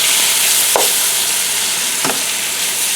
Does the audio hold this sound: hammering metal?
no